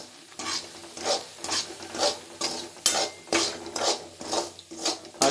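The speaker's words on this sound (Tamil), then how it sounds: "ரவையை வந்து இதில் போட்டு நம்ம நெய் ஆயில் இதெல்லாம் நம்ம ஃப்ரை பண்ணி எடுத்துக்கலாம்" Semolina stirred and roasted in ghee in a bowl for kesari, a rhythmic scraping and rustling of a spoon through the grains with a faint sizzle, repeating steadily and close, no talking.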